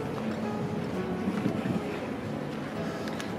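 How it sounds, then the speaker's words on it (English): A police boat engine drones across open sea off Malta amid wind and lapping waves, a steady low rumble passing at a distance. "Police boat still, or Coast Guard still going around."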